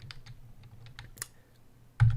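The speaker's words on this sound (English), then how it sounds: "I'm just typing code to the shell" Someone types code on a computer keyboard into a Python shell, giving a run of quick, irregular key clicks close up, ending in a louder thump as a key is struck harder.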